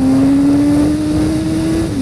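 A 2015 BMW S1000RR superbike engine roars with a loud, steady, high-pitched drone whose pitch rises slightly and then eases off.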